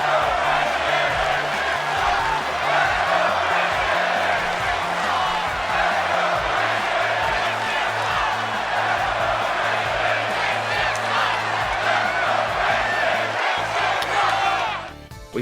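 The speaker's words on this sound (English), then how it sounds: "Up next is Christian with a Let's Go Christian, Christian Sucks chant" A stadium crowd in the WWE 2K17 wrestling video game chants in a steady rhythmic back-and-forth, alternating calls of support and jeers for Christian, loud and continuous over a constant roar before fading out abruptly.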